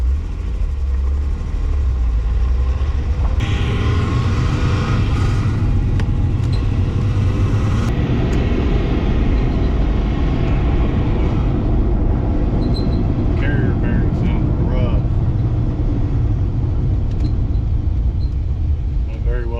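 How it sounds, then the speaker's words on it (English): A Nissan 300ZX convertible drives around the block on a test drive, its engine and road noise rumbling loudly and steadily throughout, with wind buffeting and intermittent higher whines over the drive. "Let's just take this thing around the block, see how it drives."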